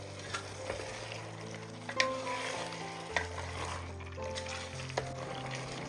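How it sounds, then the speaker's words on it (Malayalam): Fried onion and chicken for biryani stirred in a pan, a steady sizzle with a few soft spatula scrapes and taps spaced out, plus a faint steady hum behind it, no voices. "ഒരു 2 മിനിറ്റ് ഇതുപോലെ ഒന്ന് ഇളക്കി കൊടുക്കാം"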